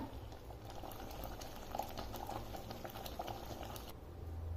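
Mango pulp boiling in a pan, with a continuous dense bubbling and soft popping patter close up, steady and unbroken.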